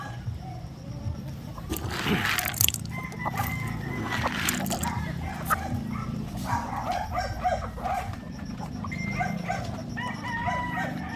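Chickens on a Filipino poultry farm cluck and cackle in scattered bursts, with a rooster-like call and a dog barking nearby, over a steady low background hum.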